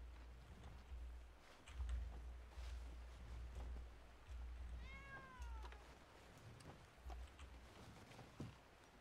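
A cat gives a single clear meow midway through, faint and somewhat distant, amid quiet low thumps and soft rustling movement.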